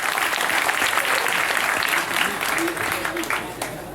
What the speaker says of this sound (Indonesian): Oke, tepuk tangan untuk Mas Guntur ya.